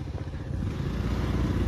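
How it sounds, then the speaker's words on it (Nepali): A scooter engine runs steadily and fairly close, a continuous low rumbling drone with a faint rattle that holds even throughout, no voices over it. "ल्यायौँ हाम्रो स्कुटर"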